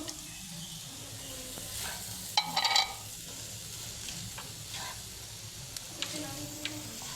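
Paneer tipped into a hot pan gives a steady, moderate sizzle throughout, with a brief louder burst of spattering and stirring partway through; a faint voice murmurs in the background.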